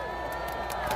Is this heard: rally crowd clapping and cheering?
yes